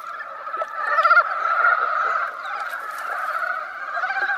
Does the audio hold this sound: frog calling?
yes